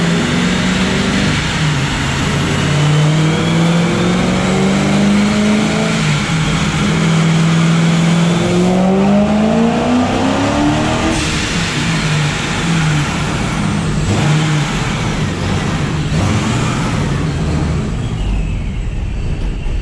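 A car engine over 1,000 horsepower pulls hard on a dyno, a loud, continuous rising roar that climbs in pitch for several seconds, then drops off and drones on close by.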